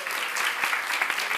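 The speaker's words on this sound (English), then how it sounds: "Let's give Central High a round of applause." An audience at the 2019 Martin Luther King memorial event at Essex County College breaks into brisk, dense applause for Central High, with clapping filling the room throughout.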